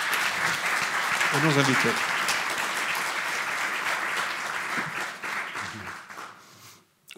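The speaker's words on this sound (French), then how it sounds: "je vous invite à applaudir nos commissaires" An audience at an inaugural lecture meeting applauds its commissioners with sustained dense clapping that slowly thins and fades, while someone speaks briefly over it.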